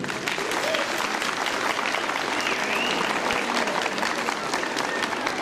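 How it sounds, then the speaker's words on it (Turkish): An audience at a school's twentieth-anniversary celebration applauds the girl students, a dense, sustained wall of clapping from a large crowd, loud and steady from start to finish. "Hepsini canı gönülden alkışlıyorum ve onlara bir alkış istiyorum."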